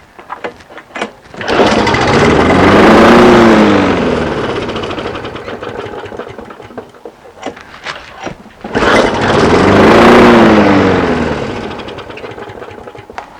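A lawnmower engine cranks and catches twice, each start rising to a loud, rough, buzzing run that fades away before the second attempt, close up in a garage.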